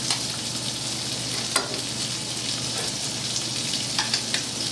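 Shrimp sizzle and sauté in a hot pan for a Mediterranean dish, a continuous close frying hiss broken by occasional stirring clatters and sharper pops, with no voices.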